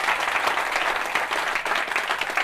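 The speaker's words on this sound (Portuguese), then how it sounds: "Uma salva de palmas para as mulheres." Dense, steady applause from an audience at an International Women's Day event, many hands clapping without a break from start to finish.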